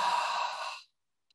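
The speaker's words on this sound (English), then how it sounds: "So you're making a little bit of a sound as you exhale." An exaggerated, breathy exhale pushed through a slightly constricted throat, a single loud sigh-like breath lasting under a second before fading into silence.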